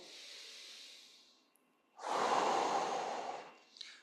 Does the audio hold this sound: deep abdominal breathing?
yes